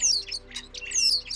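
A starling sings in a British garden: two bright descending whistles bracketing a burst of scratchy chirps and clicks, close and clear, with no talking.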